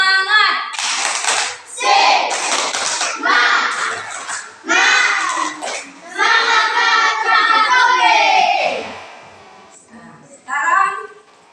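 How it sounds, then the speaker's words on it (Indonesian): A class of children claps a rhythmic spirit clap together, loud and close, with bursts of patterned clapping mixed with chanting voices that pause and restart. "Tepuk semangat."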